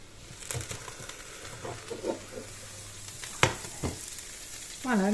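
Food fries and browns in a covered pan over lowered heat, a low steady sizzle broken by scattered stirring scrapes and a couple of sharp utensil knocks, with a brief squeaky sound at the end.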